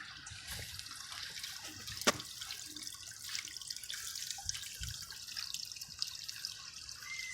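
Water trickles and splashes steadily in a small man-made garden brook that runs beneath a little bridge, a soft, continuous babble heard at a low level with no voices.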